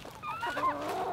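Chickens shredding invasive weeds give short, fairly close clucks and squawks that rise and fall over a soft background.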